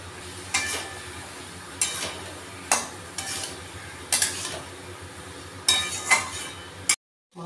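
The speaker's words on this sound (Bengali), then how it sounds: "এবারে টমেটো ও সব মশলাগুলো দিয়ে দিচ্ছেন, বাটা মশলাগুলো। এবারে ভালো করে কষে নেবেন।" Potatoes being sautéed with tomato, turmeric, chilli and ground spice paste in a pan for a fish-head muri ghonto, with a spoon stirring and scraping in short repeated bursts over a low continuous sizzle.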